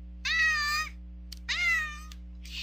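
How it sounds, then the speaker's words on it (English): A male house cat meows twice, each a loud, drawn-out cry close by, with a gap between them and a short softer sound at the end, over a low steady background hum. "My cat's talking. Can you hear him?"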